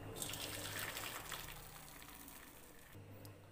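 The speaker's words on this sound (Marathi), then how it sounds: "तर चाळणीत टाकला तर लवकर पाणी निघून जातं आणि मोकळा होतो." Cooking water drains from cooked rice through a sieve in a quiet, steady gushing pour that tapers off, with a faint hum beneath.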